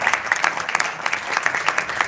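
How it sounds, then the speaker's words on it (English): Applause from an International Women's Day audience for Korea's representatives, a lively patter of individual claps from a moderate crowd, steady and fairly close. "would you please clap for Korea?"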